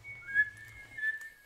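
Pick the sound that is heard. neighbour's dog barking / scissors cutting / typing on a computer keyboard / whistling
whistling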